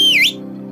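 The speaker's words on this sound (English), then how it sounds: "Then the old jellyfish whistled loudly." A loud, shrill whistle from an old jellyfish in an undersea story holds a high note, dips and rises again, then cuts off abruptly over a low background hum.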